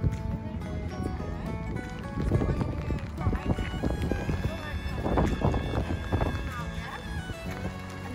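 A horse runs at an equestrian club in Leyland, Lancashire, its hooves thudding in an uneven rhythm close by as people talk over it.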